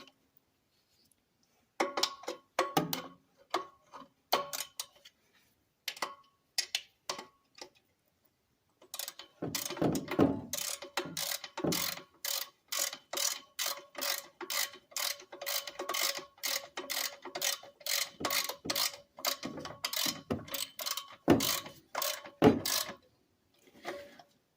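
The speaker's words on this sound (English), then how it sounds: "Trying to tighten this muffler up some." A ratchet wrench tightening the muffler on a Robin 2PG golf cart engine, with sparse clicks at first, then long runs of quick, rhythmic ratcheting clicks in repeated bursts, close and clear, with no talk.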